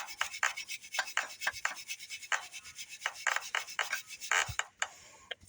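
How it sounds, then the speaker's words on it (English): A razor scraper rasps RTV sealant off the oil pan of a 2022 VW Atlas in a series of short, forceful scraping strokes, close and uneven in rhythm, with no voices. "I got to put a little bit of muscle into it to get off the RTV"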